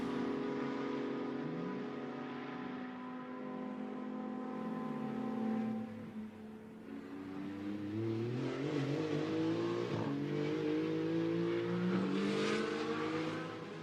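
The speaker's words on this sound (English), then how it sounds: "So Pierre Caffer presses on, see if he can wring another lap out of it." A GT2 race car laps Hockenheim during qualifying, its engine revving hard through rising and falling gear changes and brief downshifts, loud and continuous with no speech.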